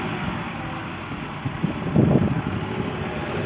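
A 2014 Kubota M8560D tractor engine runs with a steady low idle, a slight swell in the middle, and no talk over it.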